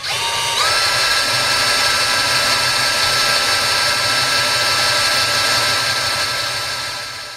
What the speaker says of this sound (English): all I'm doing is drilling a few holes in a row